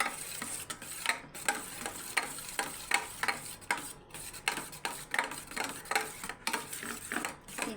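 Omelette ingredients stirred and whisked on a plate, a utensil scraping and tapping against it in a brisk, uneven rhythm close up, with soft wet squishing between strokes.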